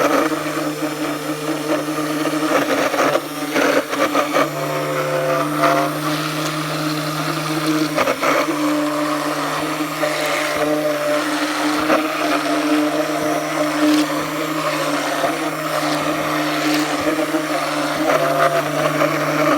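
A blender churns pine tar soap batter with a continuous, close motor hum, briefly cutting out and restarting in short pulses early on before running steadily.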